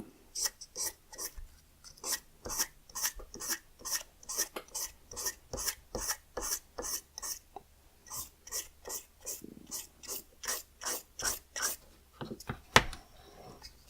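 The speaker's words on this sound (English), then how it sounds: "Just dragging the sandpaper over the edge." Sandpaper dragged over the edge of a tobacco pipe bowl, close rasping strokes repeated in a quick, even rhythm about two per second, one sharper knock near the end.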